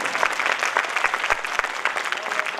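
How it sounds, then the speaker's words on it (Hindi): Loud, dense applause from an audience at the inauguration of the Shiv Jyoti Bhawan center in Nangloi, Delhi, steady throughout with sharp claps standing out close by. "आप सभी जोरदार ताली बजाएं।"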